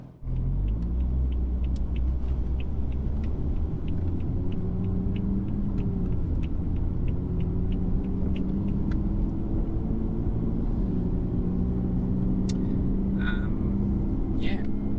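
A BMW F80 M3 converted to a single turbo with an 8-speed gearbox, a 1,000-horsepower street car, being driven: a steady low cabin rumble of engine and road noise, with faint clicks and people talking inside.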